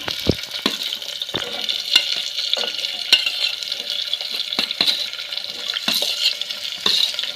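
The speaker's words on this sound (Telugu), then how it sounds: "ఆయిల్ కాగింది, ఉల్లిపాయలు వేసుకుందాం." Sliced onions frying in hot oil in a pan, a bright continuous sizzle with repeated sharp stirring scrapes and clacks of a utensil, close and loud, without any talk.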